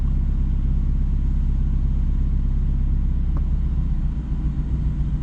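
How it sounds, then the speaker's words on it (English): A 2019 Mazda Miata idles in a steady low rumble, then pulls away on the clutch alone without any gas, the engine note dipping slightly as the car starts rolling. "Just roll it out and try to get the car moving without pressing any gas."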